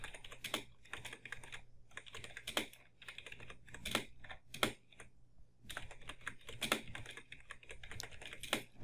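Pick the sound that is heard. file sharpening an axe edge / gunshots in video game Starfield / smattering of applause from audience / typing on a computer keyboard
typing on a computer keyboard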